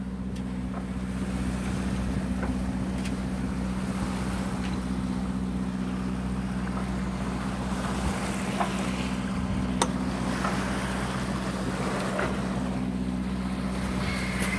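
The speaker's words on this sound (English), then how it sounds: "Morning on the Atlantic Ocean. We're motoring!" A sailboat motoring under engine power on a calm Atlantic Ocean morning, a steady low engine drone with a constant hum, heard close with faint wind and water noise and no voices.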